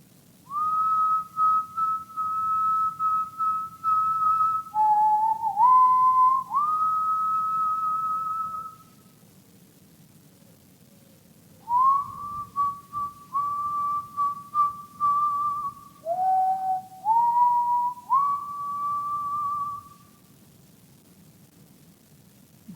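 A person whistles a slow tune in long sustained notes with small pitch slides, two phrases separated by a quiet pause, over faint background hiss.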